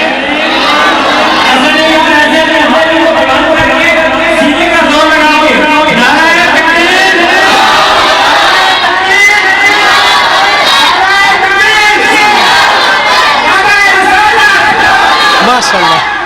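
A large crowd at a naat recitation gathering shouts the Takbir chant together, a loud, sustained mass of voices that stays dense and continuous throughout.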